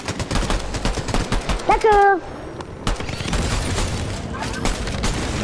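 Rapid bursts of Fortnite gunfire crackle throughout, broken by a brief electronic tone, with a voice speaking briefly over the shooting.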